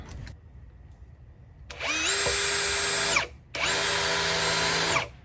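A malfunctioning power drill whirs in two sustained bursts of about a second and a half each, drilling a hole, loud and close, with a short pause between them.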